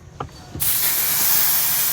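An aerosol can starts spraying after a couple of faint clicks and keeps up a steady, loud, close hiss.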